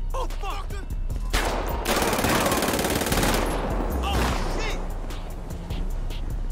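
Gunfire in the video game GTA 5: bursts of rapid automatic weapon fire, loud and close, with a sustained barrage in the middle and scattered shots around it.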